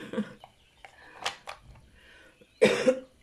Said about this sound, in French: quand on tousse comme ça, là, c'est pas agréable